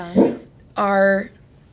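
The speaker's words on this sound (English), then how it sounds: "my dog's barking at me." A dog barks twice at close range, a short yelp followed by a longer, drawn-out howling bark, loud and clear against a quiet room.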